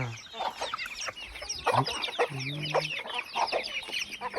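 Several chickens cluck and chatter close by in quick, irregular bursts, with one longer drawn-out call in the middle.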